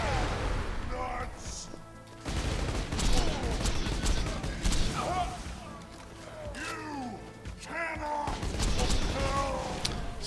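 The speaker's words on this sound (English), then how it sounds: "I can shoot between the cactus there" Borderlands 2 gunfire rattles in rapid bursts of shots and impacts during a desert raid fight, mixed with game effects and explosions across the whole stretch, with talk over it.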